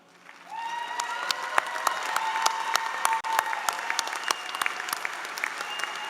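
Sustained applause from a commencement audience for honors graduates, a dense crowd of hands clapping steadily with a few sharp nearby claps standing out, rising in after a quiet start.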